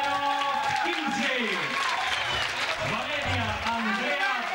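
Crowd applause and clapping greet the newly crowned queen at the Bagna Cauda festival queen election in Humberto Primo, sustained and loud, with an announcer's amplified voice speaking over it throughout.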